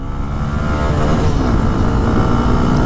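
A 2021 Honda Twister motorcycle engine revs and accelerates with a steady, loud drone close by, a strong low rumble holding throughout with no talking.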